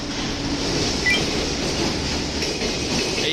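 A freight train rolls through Kyoto Station, a steady broadband rumble of wheels and cars sustained throughout, with faint squeals and clatter near the platform.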